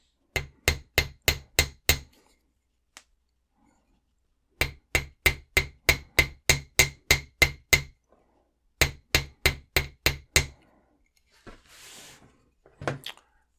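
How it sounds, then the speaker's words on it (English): A hammer flattens the ends of metal wire on a hard block in quick, even runs of taps, three groups separated by brief pauses. "Bring out our hammer and block, and just flatten the ends a little bit,"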